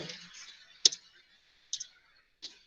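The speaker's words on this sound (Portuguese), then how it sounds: "Deixa eu apertar o Enter aqui" A single firm click of the Enter key on a computer keyboard, followed by two lighter key taps, each short and close against a quiet room.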